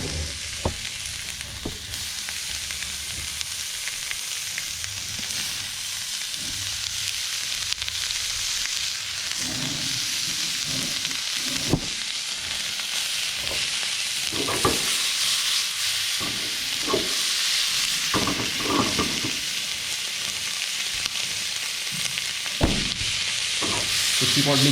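Pork bacon fries in a pan with no added butter or oil, a loud, continuous close-up sizzle with intermittent scraping and clinking as it is stirred with a fork, no voices over it.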